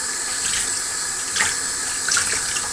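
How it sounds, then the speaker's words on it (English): Running tap water pours steadily into a sink while charcoal-laden filter media from an Eheim 2213 canister filter is rinsed, with a few brief splashy surges from hands moving the media under the stream. "as you can tell as I'm rinsing it out here"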